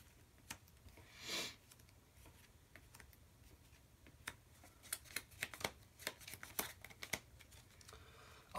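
Cards being drawn and handled from a Yu-Gi-Oh character deck during a tabletop duel, heard as a string of quiet, brief papery flicks and snaps spread across the stretch, with no voices.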